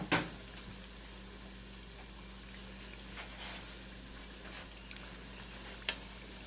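Chicken pieces for a Spanish-style stew browning in a pan, a low steady sizzle with occasional soft clicks and knocks, no talking.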